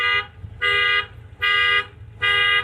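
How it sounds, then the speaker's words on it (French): A pickup truck's car alarm sounds in close, loud repeating beeps, three full bursts plus a cut-off one, evenly spaced with short gaps, and no talking over it. "L'alarme du pick-up a sonné."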